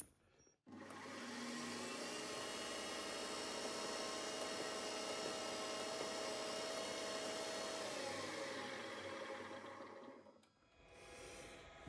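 Steady, loud whirring of a drill boring a 1/8 hole deeper into a metal part for a valve on a six-cycle engine, running continuously for about ten seconds with a slight pitch shift near the end before stopping.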